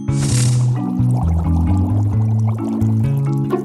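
Water pours in a steady, close stream for a few seconds, a brief hiss at the start giving way to a gurgling, filling sound that shifts in pitch as the vessel fills.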